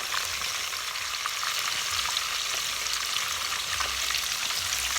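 Banana blossom fritters fry in hot oil, giving a dense, steady crackling sizzle that holds even and close throughout, with no voices.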